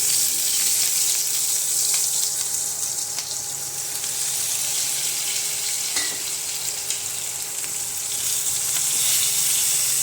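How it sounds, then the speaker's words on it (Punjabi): Okra sizzles steadily in hot oil with cumin, a continuous loud frying hiss filling the whole stretch with faint clinks of stirring, no voices. "ਹੁਣ ਇਹਦੇ ਵਿੱਚ ਆਪਾਂ ਭਿੰਡੀਆਂ ਨੂੰ ਪਾ ਦਵਾਂਗੇ"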